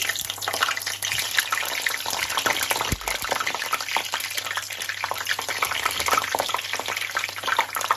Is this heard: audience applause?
no